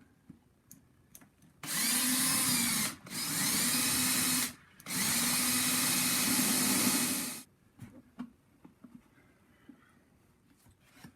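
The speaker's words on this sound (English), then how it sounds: "And I'm going to drill this hole at a little bit of an angle." A power drill whirs loudly in three sustained bursts with brief pauses between them, drilling an angled hole in wood for a nuthatch nesting box, close by, followed by faint knocks and handling noises.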